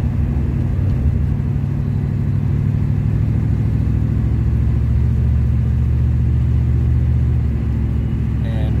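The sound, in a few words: 1977 Pontiac Trans Am driving, engine cutting out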